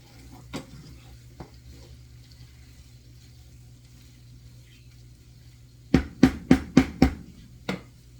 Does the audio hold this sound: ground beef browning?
yes